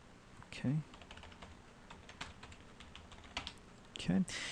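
Keystrokes tap out a login password on a computer keyboard, a sparse irregular run of light clicks with a couple of heavier presses, close and alone over quiet room hiss.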